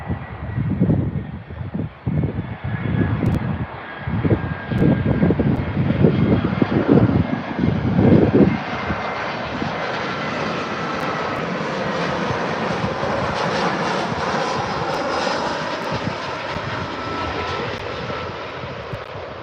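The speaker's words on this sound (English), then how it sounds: "That's 767 taxiing out now to head on out." A Boeing 767 airliner taxis at Birmingham airport, its engines a loud, steady broadband roar that holds throughout, rougher and heavier in the first half and then settling into a constant whine and rumble.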